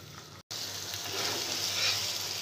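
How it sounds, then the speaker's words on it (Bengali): Onion and spices frying in oil for chicken korma, a continuous soft sizzle with a brief stir-like break, close and steady. "এবার ততক্ষণ পর্যন্ত কষাবো যতক্ষণ না পর্যন্ত পেঁয়াজটা ভাজা ভাজা হয়ে যায়"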